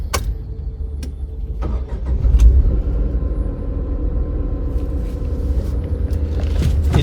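Inside the cabin of a Tata Nexon with its new petrol engine, a constant low engine hum and rumble runs throughout, rising briefly early on, with a few faint clicks and knocks over it.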